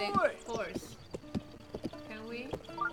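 Epona the horse in a Zelda game, hooves clopping in short irregular bursts, close and fairly loud amid tonal game sounds, with a voice speaking in between.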